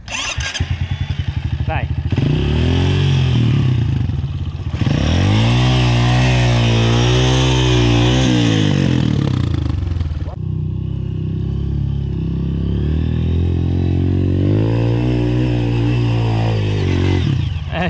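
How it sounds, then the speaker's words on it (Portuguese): A dirt bike motorcycle starts and revs hard while climbing a steep uphill trail, its engine loud and close with rising and falling throttle surges, while people talk and shout over it. "Liga a moto acelerando, ela vai subir?"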